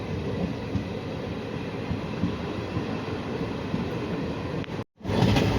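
Passenger train pulling away from Navagadh station, heard from on board. A continuous rolling rumble of wheels on rail fills the clip and cuts out briefly near the end.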